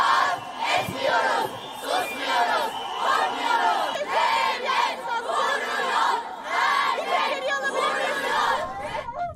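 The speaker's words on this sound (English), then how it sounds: "The police fired tear gas and scuffled with protesters after urging the crowd to" Protest crowd clashing with police in Istanbul's Taksim Square, a loud mass of shouting and chanting voices surging and overlapping throughout.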